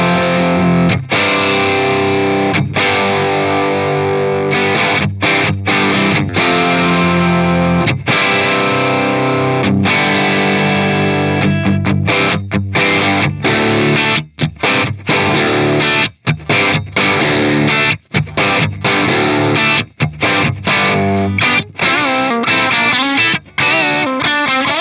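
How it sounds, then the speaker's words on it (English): Electric guitar played through the Plexi 2204 amp model on a Fractal AX8 at stock settings, loud and heavily distorted, with sustained chords and riffs broken by short choppy stops, no talking. "This is the Plexi 2204 at the stock settings."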